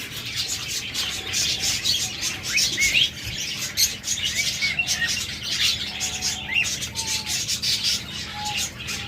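Caged breeding pairs of budgerigars and lovebirds chirp constantly in a busy, overlapping chorus, with occasional squawks and soft rustling or wing flutters nearby.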